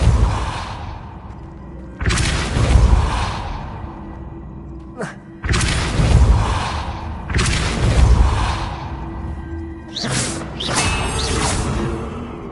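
Spells are cast repeatedly in the Hogwarts Legacy video game, including Depulso, each giving a sharp magical whoosh and a booming impact burst. The bursts arrive in several separate waves of rumbling crash and debris.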